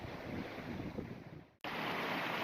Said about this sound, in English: Boy, it is so windy out right now.